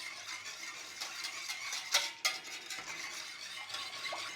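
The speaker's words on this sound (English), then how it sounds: "we're going to turn on the flame and we're going to start whisking till it goes thick" A whisk stirs pink custard in a pan over a flame, a quiet, continuous scraping and swishing with a couple of sharper clinks of metal against the pan partway through.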